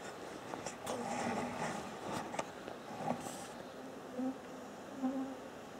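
Mosquitoes buzzing in an open field, a thin continuous whine close by with a few louder passes as insects fly near, heard alone without talk.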